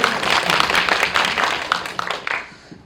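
Audience clapping at a film Q&A session, a lively burst of many hands with audible individual claps that swells, then tapers off and fades toward the end.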